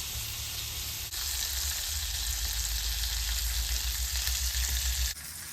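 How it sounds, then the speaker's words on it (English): Deer steak sizzles loudly and steadily in a hot pan, a continuous close frying hiss that swells as the meat goes in and holds for several seconds. "We'll go ahead and just put the steak in."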